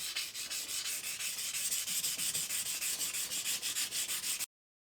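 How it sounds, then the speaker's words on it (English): A rocker box from a 1993 Sportster bobber is sanded with a power tool in a fast, even rasping rhythm of regular strokes. The sound is close and steady throughout with no talking, then cuts off abruptly. "I have to sand this area anyway"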